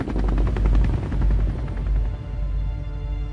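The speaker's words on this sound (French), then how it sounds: "Regarde, un hélicoptère." A loud helicopter in the video game Roblox thuds close by, rotor chop dominating with rapid rhythmic beating and a deep rumbling drone throughout.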